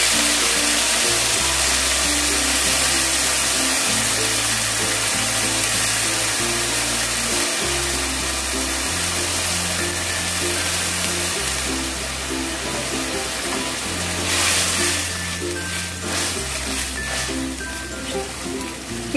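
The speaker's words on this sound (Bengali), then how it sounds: "এবার দিয়ে দেবো জল।" Water poured into a hot pan of bitter gourd stems sets off a loud, continuous sizzle and bubbling hiss that swells briefly, with a low humming tone running underneath throughout.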